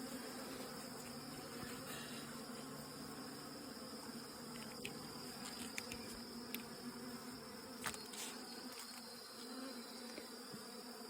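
A swarm of honeybees hums densely around a beehive, a constant, close buzz filling the air with occasional individual bees passing nearer.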